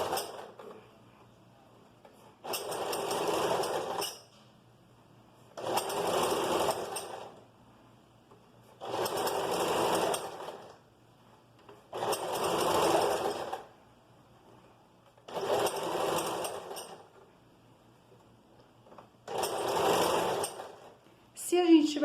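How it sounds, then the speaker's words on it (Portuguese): A sewing machine stitches a flared skirt seam with backstitching in six or seven close bursts of a few seconds each, separated by short quiet pauses. "Retrocesso, vai virando e costurando."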